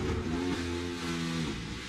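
A NASCAR Cup Series stock car engine screams into an over-rev after a gearbox failure, the pitch sweeping upward and then dropping as it free-spins, loud and continuous for about two seconds.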